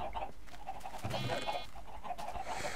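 Chickens clucking in Minecraft, several birds giving short repeated clucks at close range, with one brief higher squawk partway through, over a steady game background and no talk.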